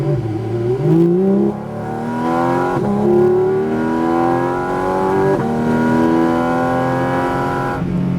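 A Porsche Cayman GT4 RS accelerates onto a race track, its engine climbing through rising revs, loud and close, with brief dips at gear changes before pulling up again.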